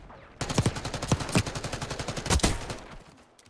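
Rapid automatic gunfire from the Jackal PDW in Black Ops 6 rattles out in a steady burst of close, punchy shots lasting a few seconds, with a few heavier louder reports standing out.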